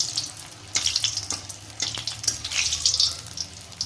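Green chilies stuffed with sago fry in oil with a bright, bubbling crackle and hiss that rises and falls in bursts, fairly close, with no talk.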